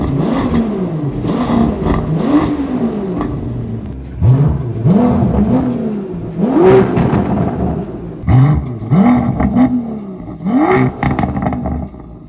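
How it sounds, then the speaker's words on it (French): An Aston Martin V12 Vantage engine is revved repeatedly while stationary, each loud throttle blip rising sharply in pitch and falling back to a rumbling idle, roughly five or six revs in close succession. "Bon allez, on va mettre 2-3 coups de gaz pour le plaisir."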